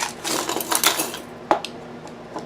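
A set of metal lock picks is dumped out onto a surface, a burst of jangling, clattering metal followed by a few scattered ticks and clinks as the picks settle, close and crisp.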